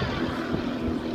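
Propeller aircraft flying aerobatics at an air display at Cranfield University, a steady broadband engine and prop drone heard continuously at moderate distance with no talking.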